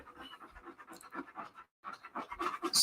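Close, rhythmic dog panting with bursts of scratching as the animal scratches itself, a brief pause, then the panting and scratching resume louder.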